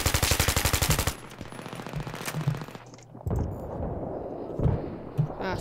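Rapid automatic rifle fire from a foregrip-equipped rifle in Battlefield 3, a loud sustained burst up front followed by scattered bursts and distant shots amid game noise.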